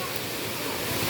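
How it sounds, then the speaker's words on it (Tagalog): Water flowing steadily at a waterfall in a cool natural setting, a continuous broad rush with no distinct drips standing out, heard for about a second. "Pati itong kabilang side, meron ding umaagos na tubig."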